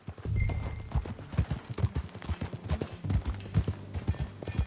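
Horse hooves galloping in the Red Dead Redemption 2 game, a steady rapid clip-clop rhythm close and prominent throughout, with low rumbling under the beats and no talk.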